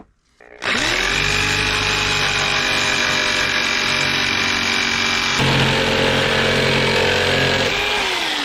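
A router trims a wooden template down to size, a loud, steady high-pitched whine that starts abruptly after a brief quiet moment and runs continuously, with a slight shift in load partway through.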